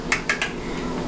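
Three quick metallic clinks of a whisk knocking against a bowl of banana cake batter, evenly spaced near the start and then fading into quiet room tone.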